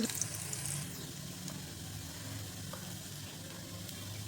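Garlic fries in oil in a pan for a fenugreek vegetable dish, a soft steady sizzle that opens with a brief clatter of stirring and then runs evenly and quietly with no talking.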